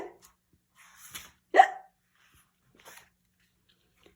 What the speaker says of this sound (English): but still hiccups